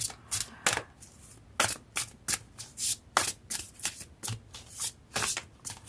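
Quick papery flicks and slaps of tarot cards tumbling and spilling, a rapid irregular series of crisp close-up taps.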